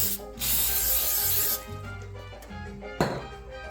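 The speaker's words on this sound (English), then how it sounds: "Now you want to spray the other side." Cooking oil spray misted onto taquitos in an air fryer basket: a loud, steady hiss lasting over a second, then a quieter rattling rustle and a sharp click as the basket is handled.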